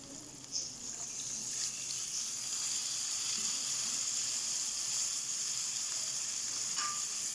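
Water added to a pan of spiced potato curry hisses into a steady sizzle after a small splash, a close continuous bubbling fry with no talk.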